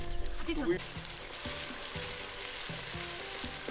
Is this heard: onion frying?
yes